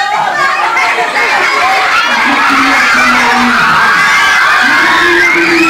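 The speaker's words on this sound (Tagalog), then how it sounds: "Kaya ang sigawan." A dense crowd shouts and screams in loud, continuous overlapping voices that swell and rise in pitch, with excited chatter throughout.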